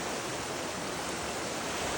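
Floodwater after a cloudburst rushes fast across flooded village farmland, making a dense, loud, unbroken roar of flowing water close by with no voices.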